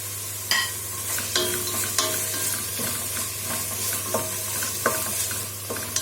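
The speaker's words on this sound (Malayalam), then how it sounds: "ഉള്ളി നന്നായിട്ട് വഴണ്ട് വന്നിട്ടുണ്ട്. അപ്പോൾ ഇതിലേക്ക് ടൊമാറ്റോ കൂടെ ചേർത്ത് കൊടുക്കാം." Onions and tomato sautéing in a pan for a roasted-coconut Kerala chicken curry: a steady close sizzle with repeated scraping stir strokes of a spoon against the pan, no voices.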